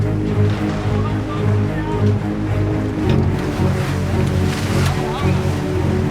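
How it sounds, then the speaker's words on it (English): Steady roar of rough, big offshore ocean waves rushing continuously around a racing sailboat, loud and close, with a low mechanical hum underneath. "the waves are really big in this offshore windward mark rounding"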